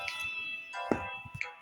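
A phone plugged in to charge gives faint, short electronic notification chimes, one at the start and another near the end, over a quiet background.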